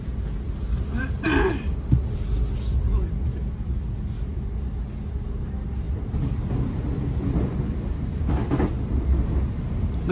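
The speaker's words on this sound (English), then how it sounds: "They're quite long trains, aren't they?" Low rumble and rattling of a Thameslink train rolling along the rails between Farringdon and Gatwick Airport, steady and close, with muffled passenger voices chatting faintly in places.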